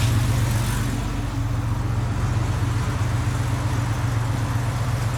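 A Scion FR-S car engine idles steadily to warm up while jacked up in a garage, a constant low rumble with a soft, even hum running throughout and no voices.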